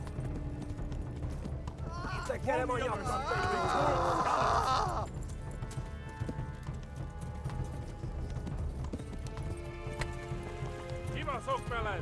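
A horse gallops with rapid clip-clop hooves in the medieval game Kingdom Come Deliverance, continuous rhythmic beats under game sounds, with a loud shout partway through.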